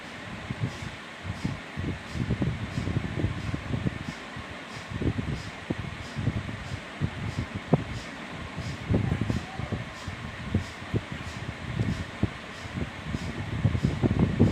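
Forceful breaths are pushed out through the nose during pranayama in a rapid, continuous rhythmic series of breathy puffs, steady and close throughout.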